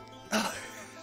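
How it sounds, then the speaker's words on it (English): A single short sneeze from a man, abrupt and close, followed by a quiet trailing breath. "hold on, I gotta sneeze"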